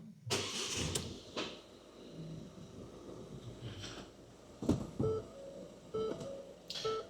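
A Ford Tourneo Connect van engine, which has diesel particulate filter faults, cranks and catches, with clunks and mechanical noises around it, then idles at close range.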